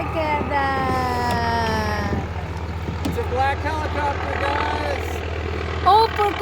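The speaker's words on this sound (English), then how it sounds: "It's a black helicopter, guys." A black helicopter flies overhead during a canoe trip on a river, its low steady rotor and engine drone running under people talking excitedly.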